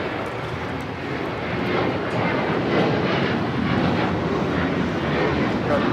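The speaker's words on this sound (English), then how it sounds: "2729 taking off to Houston Intercontinental on the 737-900ER" A United Airlines Boeing 737-900ER jet takes off from Los Angeles airport for Houston, a steady broadband engine roar rising slightly and holding, with voices talking over it.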